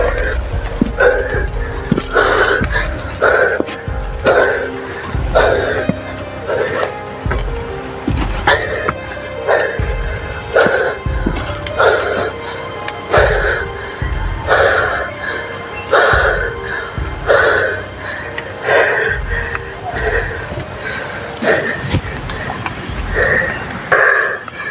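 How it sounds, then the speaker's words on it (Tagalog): A man pants heavily after a climb, with rhythmic loud gasping breaths repeating steadily for about twenty-five seconds, close and harsh. "Hinihingal ako sobra."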